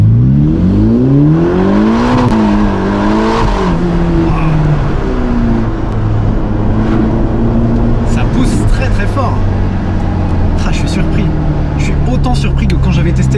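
Ferrari Roma V8 revving loudly on the move, engine pitch rising and falling through gear changes with a steady drone, someone speaking over it from inside the car.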